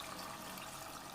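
Water pours steadily into a pot of turnip and mutton curry, a faint, continuous splashing and trickling.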